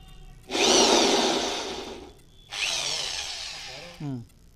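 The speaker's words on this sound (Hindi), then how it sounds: "इसके अंदर बीच में सुराख मारना है। रिबिट के अंदर ही सिर्फ सुराख होना चाहिए" A power drill bores into a rivet on a tin shed roof during solar panel fitting. Two long loud whining bursts are separated by a short pause, and a brief spin-down follows at the end.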